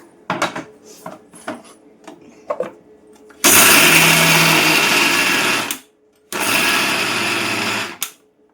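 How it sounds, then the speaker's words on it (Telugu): A mixer grinder grinding peanuts whirs loudly in two bursts, stopping briefly between them, after some scattered clinks and handling noises. "ఓకేనండి, ఇవి కూడా మిక్సీ పట్టేసుకుందాం."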